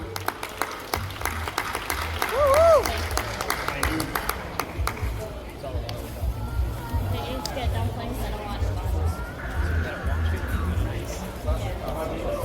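Audience applause and crowd chatter for a contestant at a dumpling eating contest at an outdoor food festival in Coquitlam, a steady wash of clapping and babble with a voice rising briefly over it.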